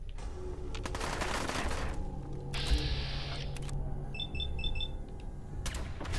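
Fallout 4 firefight in survival mode: dense bursts of gunfire and mechanical clatter with an alarm-like tone, fairly loud and continuous throughout.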